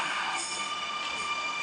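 A Sydney Millennium passenger train departs the platform at Lewisham with a steady, airy rumble and faint high wheel or motor whine, even and continuous throughout, with no talk.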